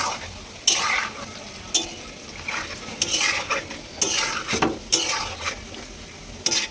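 Palm fruit fritters (taler bara) frying in oil for a Janmashtami offering: a low background sizzle is broken repeatedly by sharp metallic clinks and scrapes of a utensil against the pan, in an irregular rhythm.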